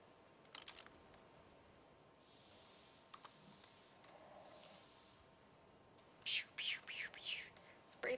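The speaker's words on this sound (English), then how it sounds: "Spray painting is fun." Aerosol spray painting on a stone wall in Ark: Survival Evolved, heard as three broad hissing bursts of about a second each, followed by sharper clicking and tapping sounds, with no talking.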